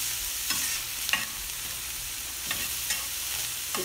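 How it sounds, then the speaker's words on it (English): Hamburger meat sizzling in a hot skillet, a steady close fry broken by a few spatula scrapes and taps spaced through the sound. "Picked up quick in a hot skillet."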